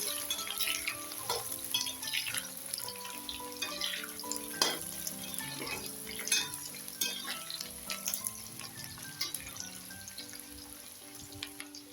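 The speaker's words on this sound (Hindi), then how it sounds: "अब हम इसमें बारीक कटे हुए प्याज डालेंगे और इसे हल्का ब्राउन भून लेंगे" Finely chopped onions fry toward light brown for kohda (pumpkin) sabji, a soft, continuous sizzle with scattered crackles and stirring taps beneath quiet melodic background music.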